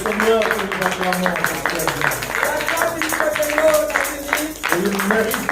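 A church congregation claps along in a steady rhythm during a worship service, the beats sitting under a loud voice singing or speaking over them.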